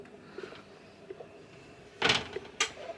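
A mirrored wardrobe door slides along its track in a holiday park room, giving a short loud rolling swish followed by a brief second knock or bump, heard close up and alone.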